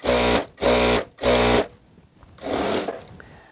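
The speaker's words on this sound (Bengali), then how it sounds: "দেখেন আমি 2টা করে সেলাই দিয়ে দিচ্ছি।" A sewing machine stitches a second line of stitching over a first seam on a skirt, running in three quick, even bursts, then a softer fourth run after a short pause, close and loud.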